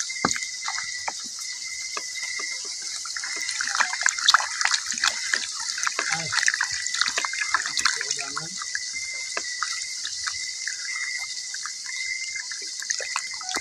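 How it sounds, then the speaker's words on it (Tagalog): A tap runs steadily into a sink while dishes are washed, a continuous hissing stream mixed with trickles and small splashes, and a voice talks faintly under it. "Nagas pa mga tubig guys."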